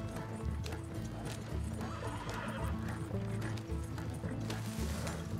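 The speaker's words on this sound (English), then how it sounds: "Slow down. You'll burn out the horses." Horses gallop and whinny in Red Dead Redemption 2, a busy mix of pounding hoofbeats, rattling tack and mechanical creaks, with neighing cutting through at a moderate level.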